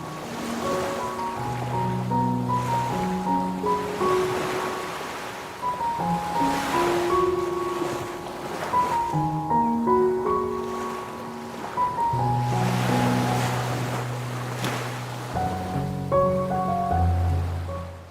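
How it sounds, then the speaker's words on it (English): A continuous roar of surf on the beach at Saint Martin Island, Bangladesh, washes through the whole clip, with a melodic tune playing over the rushing water. "you can hear the roar of the sea."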